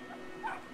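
A puppy in the video game Brothers: A Tale of Two Sons gives a short, high yip or whimper over a faint steady background, close and fairly soft, lasting well under a second.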